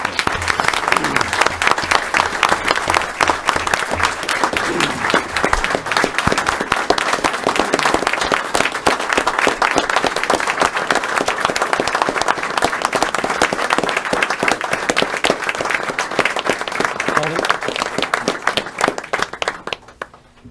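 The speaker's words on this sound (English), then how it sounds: "Can we give these individuals a round of applause?" An audience gives sustained, dense applause for first responders being recognized by a fire chief, a loud, even wash of clapping for about twenty seconds before tapering off.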